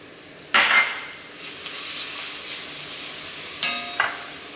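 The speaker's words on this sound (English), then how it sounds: "I'll start adding in the vegetables. I'm going to add in some celery," Celery and green onions drop into a hot pan and sauté, setting off a burst of sizzling that settles into a steady fry, with a second clatter and crackle of stirring near the end, no voices.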